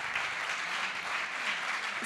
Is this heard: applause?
yes